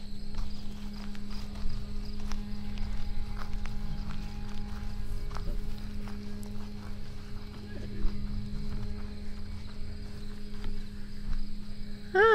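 Grasshoppers chirr steadily in the background in grassland at Theodore Roosevelt National Park as horse hooves clop and shuffle nearby, with faint scattered sounds over the constant buzzing hum.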